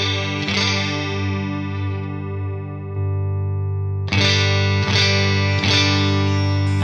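Electric guitar run through a Behringer UC200 Ultra Chorus pedal, a sustained chorused chord ringing on loud and steady, then three sharp strums near the end, with no talking.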